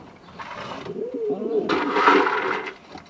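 Pet pigeons in a loft coo close by, soft rolling calls rising and falling in a burst with light rustling and a faint voice behind.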